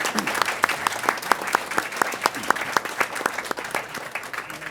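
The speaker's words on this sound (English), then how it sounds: "let's give them a big round of applause" Steady applause at a school district board meeting for an elementary school honored for attendance, a roomful of hands clapping evenly for several seconds with a few sharper claps standing out, no voices over it.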